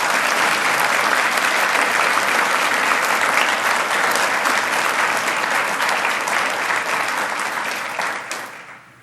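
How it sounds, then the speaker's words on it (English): Strong, sustained applause from a large audience honoring educator administrators, a dense wash of clapping that holds steady for several seconds and then fades out. "Would everyone please join me in a round of applause for our educator administrators that are here today."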